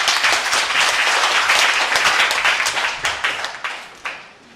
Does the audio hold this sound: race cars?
no